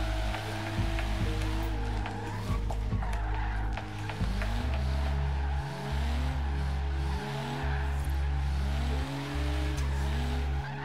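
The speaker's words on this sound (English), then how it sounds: "The shifting in this car is another thing I love." BMW M4 Horizon Edition drift build in Forza Horizon 3, engine revving through rapid gear changes with rising and dropping pitch, alongside loud tire squeal and skidding, close and continuous.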